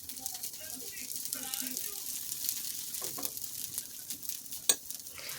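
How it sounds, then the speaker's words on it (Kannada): Mixed-sprout paddu cooking in a covered paddu pan over a low flame, giving a soft, steady sizzle and frying crackle with faint scattered clicks, mostly quiet with one brief sharper knock near the end. "ಲೋ ಫ್ಲೇಮಲ್ಲಿಟ್ಟು ಚೆನ್ನಾಗಿ ಪೊಡ್ಡನ್ನ ಬೇಯಿಸ್ಕೊಬೇಕು ಒಂದು 5 ಮಿನಿಟ್ಸು"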